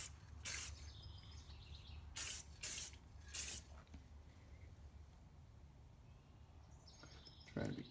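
Short bursts of spray paint hiss from an aerosol can onto a painted 3D figure, several quick blasts close by with pauses between, plus faint background sounds.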